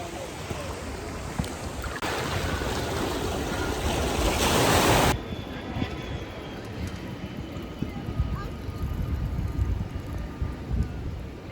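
Waves wash onto a Mediterranean beach in Nice, a broad steady surf noise that swells loudest for several seconds before easing, with wind and people talking over it.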